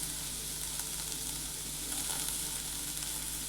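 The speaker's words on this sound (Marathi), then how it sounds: "आता इथे आपल्याला कांदा भाजत असताना थोडंसं तेल टाकायचं आहे." Onion frying in oil in a pan for a drumstick (shevga) vegetable curry, giving a steady, dense sizzle that holds evenly throughout with no voices.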